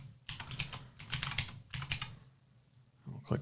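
Bursts of close computer keyboard typing with quick clustered key clicks, separated by short pauses, entering a vault name.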